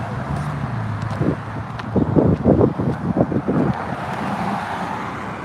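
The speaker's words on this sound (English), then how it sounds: "traffic here is brutal" Road traffic rumbles along a busy street on a walk, a steady roar with a cluster of louder passing-vehicle surges midway, mixed with wind buffeting the microphone.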